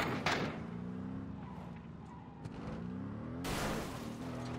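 A car's engine in PUBG drones steadily with a rising and falling pitch, joined by bursts of gunfire and a sudden louder noise near the end.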